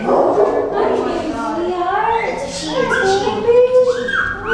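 A puppy makes high whining and yipping noises, rising and falling, close by, while people talk over it.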